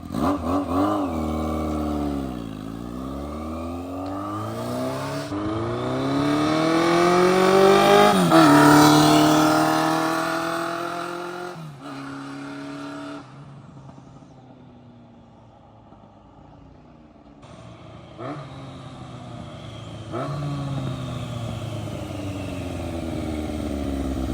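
A 1982 Yamaha Seca Turbo motorcycle engine, a one-owner barn find, runs close by, its pitch climbing and falling through two long revs before settling to a steady idle with brief blips.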